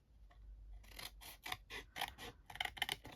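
Scissors snip patterned craft paper for a small lidded gift box, a quiet close-up series of crisp cutting bursts in an uneven rhythm, quickening into several rapid snips near the end.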